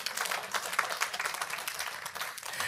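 A church congregation claps together, many hands forming a fairly dense, slightly uneven patter of applause that holds steady without speech on top.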